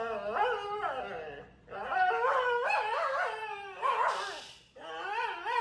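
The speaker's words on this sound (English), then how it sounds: "Vocal dog refuses to go to bed." A husky howls in long, wavering, pitch-bending cries broken by brief pauses, close and loud, with whimpering yips mixed in and no talk over it.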